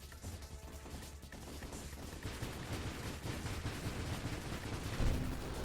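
Rapid-fire weapon shots in the space shooter Nova Drift, a dense continuous barrage of quick crackling bursts at steady loudness, slightly heavier toward the end, with no talking.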